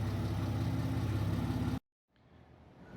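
A car idling after a Megasquirt engine management install, a loud, rough, throbbing low rumble that cuts off abruptly, then a quieter mechanical background gradually rises again.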